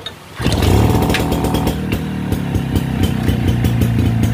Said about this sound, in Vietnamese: Máy nổ rất là êm luôn em.